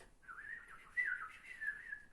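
A person whistles in imitation of birdsong, a faint, wavering melodic line with a few brighter swoops, heard alone in quiet.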